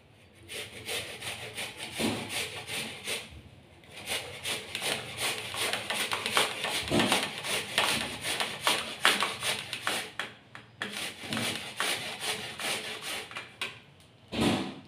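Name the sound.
grating carrots for carrot halwa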